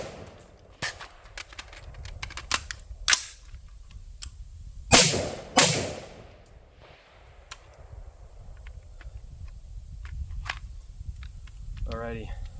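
Rifle shots come from a Palmetto State Armory 20-inch upper, giving a run of sharp cracks with two louder shots near the middle. Handling clatter and a voice are heard between them.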